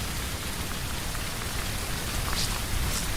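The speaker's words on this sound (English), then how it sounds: "I can barely hear a thing now because of all this rain." Steady rain pours down in a constant soft hiss in the video game BULT, with no other sounds standing out.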